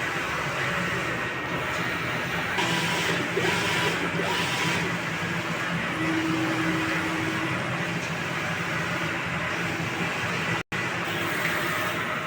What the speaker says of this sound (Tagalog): Nozzle test.